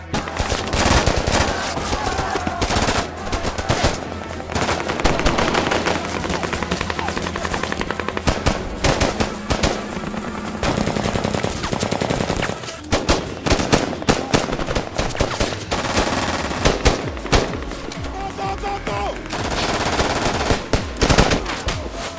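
A paratrooper FN Minimi machine gun with a telescoping stock fires 5.56×45mm NATO rounds at about 800 per minute, loud and close in long rapid bursts broken by brief pauses across the whole stretch.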